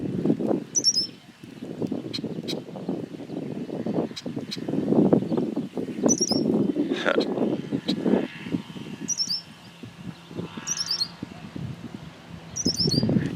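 A bird in roadside grass along Amish back roads repeats a short, high chirping call several times at regular intervals, clear against a steady low wind and outdoor rumble.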